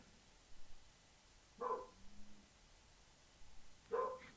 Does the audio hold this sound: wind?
no